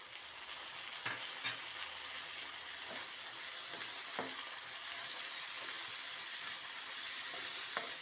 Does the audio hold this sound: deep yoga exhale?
no